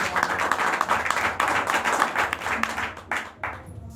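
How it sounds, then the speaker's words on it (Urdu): Loud applause from a gathered congregation, many hands clapping together in a dense burst that carries on for a few seconds, then thins into scattered claps and fades out near the end. "زوردار تالیاں بجا"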